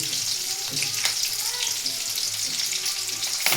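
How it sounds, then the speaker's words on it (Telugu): Onions with sprigs of curry leaves sizzle steadily in hot oil in a home kitchen while a crab curry is being prepared, a continuous close frying hiss with occasional stirring and no talk. "నూనె వేగిన తర్వాత ఉల్లిగడ్డ వేసుకోవాలి ఆ తర్వాత రెండు రెమ్మల కరివేపాకు కూడా వేసుకుంటే పని అయిపోతుంది"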